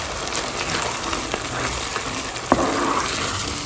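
Steady hot-oil sizzling and crackling as a tempering is poured into dal, close up, with a brief clatter of a utensil partway through.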